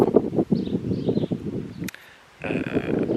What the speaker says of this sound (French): il y a du vent, il y a vachement de vent